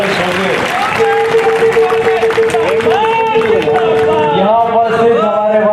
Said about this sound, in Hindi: ताली इतनी जोर से बजाओ कि बाकी पॉलिटिकल पार्टियां फार्म भरने से पहले सो गए।